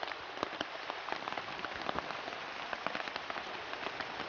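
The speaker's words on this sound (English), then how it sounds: "It's raining outside and the rain can't touch you." Rain falls steadily on the Amazon rainforest, a dense, even patter of drops on leaves and surfaces with scattered closer splats, heard alone without voices.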